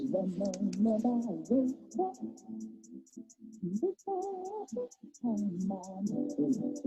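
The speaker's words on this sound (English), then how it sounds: "first thing I did is I recorded hi-hats" A quick, steady pattern of crisp hi-hat ticks runs throughout while a person talks over it.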